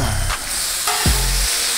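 Vegetables sizzle loudly on a hot Blackstone griddle, a dense continuous hiss close up, with a couple of soft scraping thumps from a spatula.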